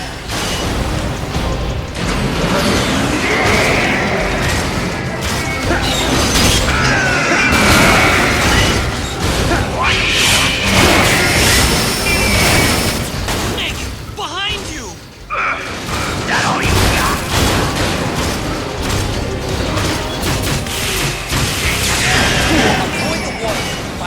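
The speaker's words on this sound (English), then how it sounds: "shoot down the approaching missiles with the machine cannon" Rapid mechanical machine cannon fire shooting down missiles and booming explosions in Metal Gear Solid 4: Guns of the Patriots, dense and loud throughout, with a voice speaking over the action.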